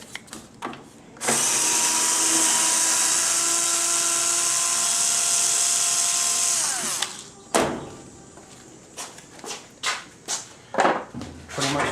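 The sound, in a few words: drill gun removing screws from back of washer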